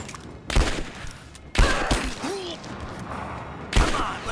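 Three heavy bursts of gunfire in the Tomb Raider video game, each a loud, sharp blast with a rumbling tail, spaced about a second apart, with faint voice sounds in between.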